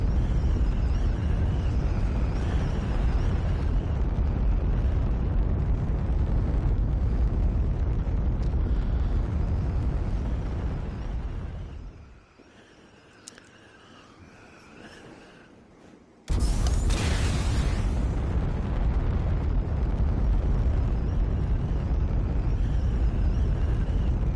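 Rocket motor on a glider in the flight game UltraWings roars loudly and continuously, drops to a quieter lull for a few seconds, then abruptly surges back at full strength.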